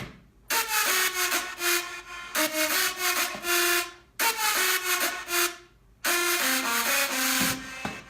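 Synth noise from an FM synth with the ring modulation switched off plays as four loud sustained bursts, bright hiss over faint tonal lines, separated by short gaps, close and alone.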